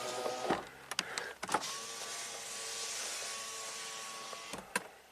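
An Acura sunroof motor runs in a steady whirring hum for several seconds between a few clicks and clunks, close and moderately loud, with no talk.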